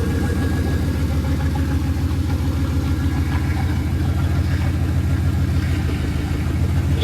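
A one-ton eight-lug pickup truck idles steadily close by, its low engine rumble constant and unchanging, with no talking over it.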